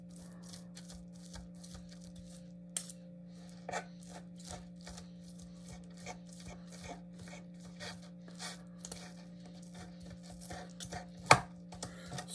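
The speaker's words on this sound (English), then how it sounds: "Just take a fork and just kind of start ripping it apart." Cooked chicken breast pulled apart with a fork in a home kitchen, giving quiet, irregular scraping and tearing scratches with a few sharper clicks against the plate, over a steady low electrical hum.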